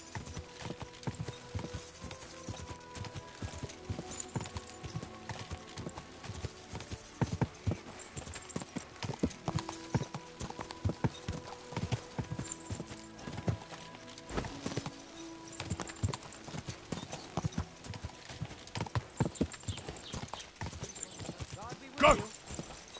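Horse hooves clatter in a steady galloping rhythm throughout, in the video game Kingdom Come: Deliverance II, with music and game sounds underneath and a brief sharper burst near the end.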